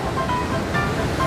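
Waterfall at Ciherang, a dense, loud, close roar of falling water that stays steady across a brief moment, with no voices.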